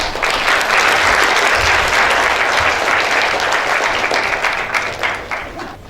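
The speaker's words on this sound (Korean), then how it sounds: "박종성 회장을 뜨거운 박수로 맞이해 주시기 바랍니다." Loud, sustained audience applause at a 2012 Korean university students' forum national assembly, greeting the association's president as he takes the stage; dense crowd clapping that swells and holds before tapering off near the end.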